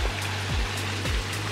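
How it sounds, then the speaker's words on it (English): A garden waterfall at a water garden runs in a steady, broadband wash of falling water, close and continuous. Low humming tones and brief deep swoops sit underneath the flow, and no one speaks. "You know, the waterfall is just awesome."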